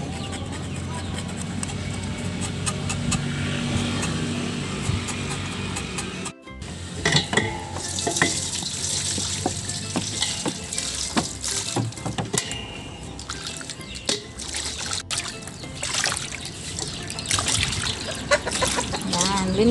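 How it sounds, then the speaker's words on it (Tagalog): Seaweed gets rinsed under running tap water, a trickling, splashing flow with chickens clucking in the background and someone talking. "ito ay babanlian ko lang ng tubig"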